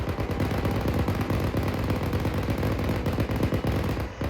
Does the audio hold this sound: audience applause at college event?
no